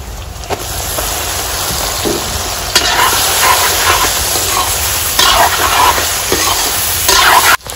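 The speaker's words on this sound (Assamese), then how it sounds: "মাংস হাল ভাজিলে হৈ গ'ল" Meat with masala frying in a very large kadai, a steady close sizzle and hiss broken by scraping stirs every couple of seconds, with no voices.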